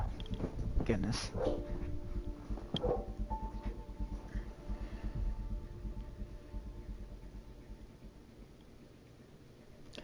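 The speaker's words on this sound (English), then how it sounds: "Sorry if you hear my dog bark." A pet dog barks indoors in a home, a few sharp yaps early on, followed by quieter whimpering sounds mixed with a person talking nearby.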